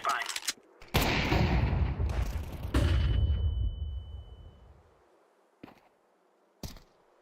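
A flashbang grenade detonates in Counter-Strike 2 with a sharp loud bang, then a long rumbling decay and a thin ringing tone that fades out, followed by a couple of faint clicks.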